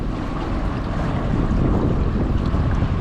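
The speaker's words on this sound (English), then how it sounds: "And then we move to step 2 and breaking in the motor." Outboard boat motor running steadily at moderate RPM during engine break-in, a continuous dense broadband drone with wind and water noise, no speech.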